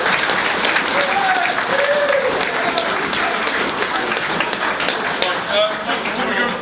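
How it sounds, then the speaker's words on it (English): An audience at a Thrudball 2019 event claps in a sustained, dense burst of applause, steady throughout with a few cheers and shouts mixed in. "So give yourselves a round of applause."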